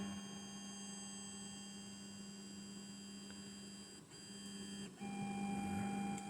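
A WIZMAKER 3D printer running its start-up axis detection gives off a steady electrical hum with whining motor tones that shift in pitch partway through, close and fairly quiet, with no voices.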